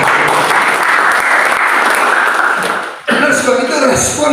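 A church congregation at a praise and worship service bursts into loud, sustained applause that fills the room, briefly dipping before swelling again, with voices mixed in.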